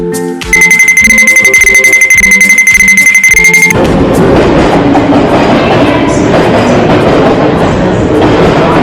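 A train in the City of London, with a steady electronic tone and beeping at first, then the loud rumbling roar of the train passing close by and continuing.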